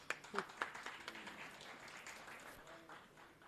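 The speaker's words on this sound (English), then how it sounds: "Can we give a round of applause," A small audience at an education summit gives a brief round of applause, faint and distant, with a few distinct claps at the start that blend into a soft patter.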